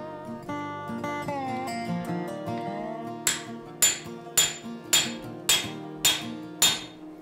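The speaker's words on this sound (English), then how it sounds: "I go to my final drifts to really get the eye in the correct shape that I need." A steel drift being hammered into the eye of a hand-forged axe: ringing metallic tones, then seven sharp, evenly spaced hammer blows that ring out close and loud.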